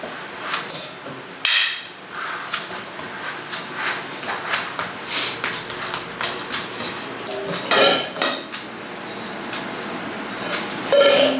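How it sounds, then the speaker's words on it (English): A spoon mashing and scraping buckwheat pizza dough in a bowl, with repeated close clinks and dull knocks against the bowl in an irregular rhythm, and no talk. "And then just mash it in, however thick you want your dough or how thin you want your crust"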